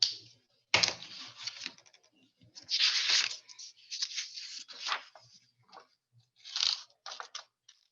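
Scissors snip through a paper craft card for a New Year resolution card, with several crisp, close cutting crunches in short irregular bursts separated by quiet pauses.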